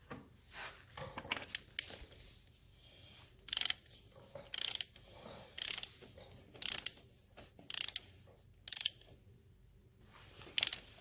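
A ratchet driving an inch-and-eighth socket on a Triumph Trident primary clicks in rapid bursts, about eight separate close runs of sharp pawl ratcheting spaced roughly a second apart, with quiet pauses between.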